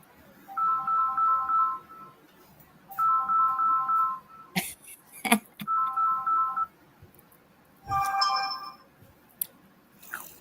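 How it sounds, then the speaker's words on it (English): A mobile phone ringtone plays a repeating electronic melody in four distinct bursts, fairly close and clear, separated by short pauses with a few knocks and clicks in between. "That was somebody on my phone."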